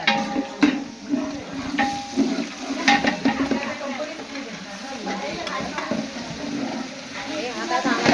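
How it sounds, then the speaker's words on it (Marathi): A paste of garlic, ginger and green chili fries in a pan for vegetable pulao, giving continuous close sizzling with scraping stirs and occasional utensil clinks. "चांगलं असं फ्राय होऊन जाईल"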